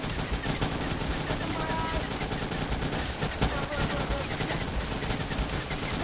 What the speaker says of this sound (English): At least this shotgun's overpowered.